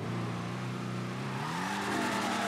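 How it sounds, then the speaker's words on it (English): A Dodge Challenger Hellcat in the video game GTA 5 does a burnout, its engine droning steadily and then revving higher, with a rising tone and a gritty rush building toward the end, close and continuous. "listen to this burnout we're about to do"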